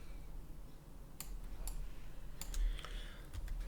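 A few quick clicks and taps of keys, scattered and fairly faint, over a low hum.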